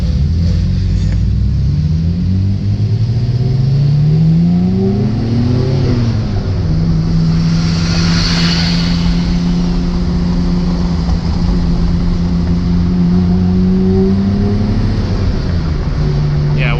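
A Nissan Skyline GT-R accelerates hard as its engine climbs through the revs on boost, loud and close, with the pitch rising, dipping at a gear change and then holding a sustained roar.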